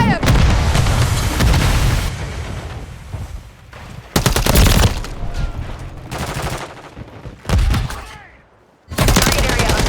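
Gunfire in Modern Warfare III multiplayer: loud, close bursts of automatic fire and heavy booms come in several sustained volleys with short gaps between them, and in-game radio voices are heard briefly between the volleys.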